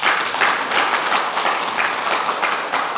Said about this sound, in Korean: 승리에 또 축하에 그런 큰 격려의 박수를 한번 보내주시기